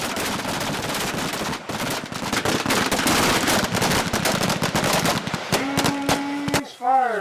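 Rifle gunfire on a Marine Corps marksmanship range, dense overlapping shots cracking continuously and loudly in rapid succession, followed by a few sharp isolated reports and a whistle-like tone near the end.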